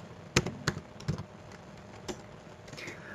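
Someone typing on a computer keyboard: a few sharp key taps in short bursts followed by lighter, scattered presses, close and quiet.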